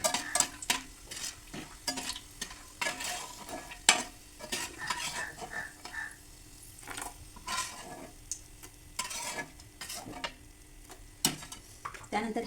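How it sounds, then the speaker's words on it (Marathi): Star anise crackling and sizzling in hot oil, with frequent sharp spoon scrapes and stirring clatter against the pan, steady and close, no talking. "चक्री फूल भाजून घेऊया."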